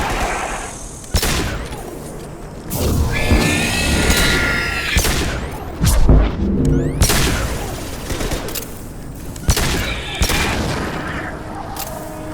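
Explosive shots firing in the video game Mass Effect 2: loud booming gunshots and bursts with blasts and crackling debris, several heavy impacts spaced across the stretch amid rumbling combat noise.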